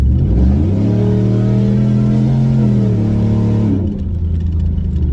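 A Ram truck with an AWE exhaust accelerates, its engine revving up with a deep, rumbling exhaust roar that climbs and holds steady, then drops off sharply near the end.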